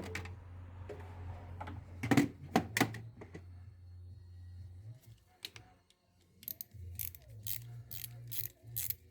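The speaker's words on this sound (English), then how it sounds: "I used a 1/4 inch ratchet." A 1/4 inch ratchet loosening a T25 Torx bolt on the camshaft sensor of a Seat Leon Cupra 280 (CJXA) engine, quiet close bursts of quick ratcheting clicks separated by pauses.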